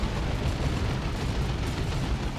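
Heavy plasma cannon blasts pounding an Ork super unit in a Dawn of War 2: Retribution battle, a dense, continuous roar of booming impacts and explosions with no pauses, loud and close throughout.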